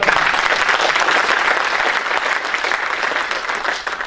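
An audience at a tech conference Q&A session gives a burst of loud, steady applause that fills the room and fades slightly toward the end.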